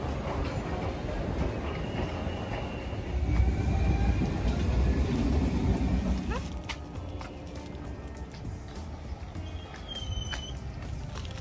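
A train pulling into a station, a heavy low rumble of rolling wagons that swells and then eases, with faint squeals and mechanical clanks near the end.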